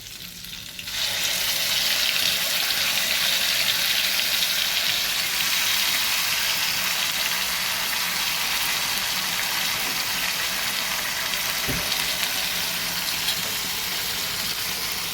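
Onion, ginger and garlic paste hits hot oil in a pan for a small prawn malai curry, bursting into a loud, sustained sizzle that stays dense and even, with a brief utensil knock near the end.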